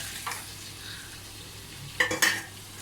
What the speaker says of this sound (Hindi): अब इसमें मैं ये 1 किलो प्याज डाल रही हूँ।